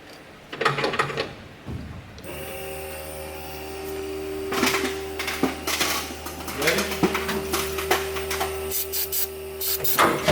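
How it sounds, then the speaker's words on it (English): An electric fuel pump runs on an old military truck that has not started in over 30 years, giving a steady mechanical whir with clanks and knocks over it, and people speak briefly nearby. "go ahead and cut that pump on"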